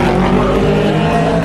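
Porsche race car, the number 20, roaring past into the pit lane during a 24-hour endurance race, a loud, continuous engine drone filling the whole short moment at close range.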